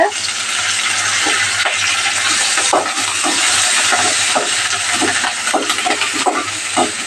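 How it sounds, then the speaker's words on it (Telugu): Curry leaves, green chillies and onion go into hot tempering spices in oil for sambar, giving a loud, dense, continuous sizzle and crackle with faint scraping throughout. "పోపు దినుసులు దాకా వేగని కరివేపాకు, పచ్చిమిరపకాయలు, ఆనియన్ వేసుకోండి"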